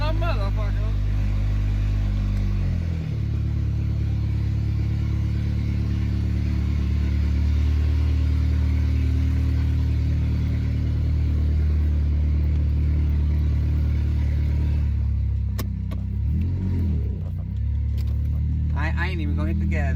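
A car with its catalytic converter stolen idles with a loud, deep, rough exhaust drone throughout, close by, while someone talks over it; the engine note shifts briefly near the end.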